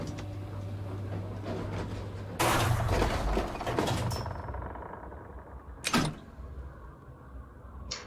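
A door in a Halloween video game slides or bangs open with a loud burst of noise, followed a few seconds later by a second sharp thud, over a steady low game hum.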